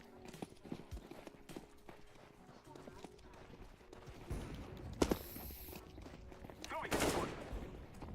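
Counter-Strike match with scattered bursts of gunfire and a sharp flashbang blast, rapid popping shots building toward a loud burst near the end, with a voice talking over the game audio.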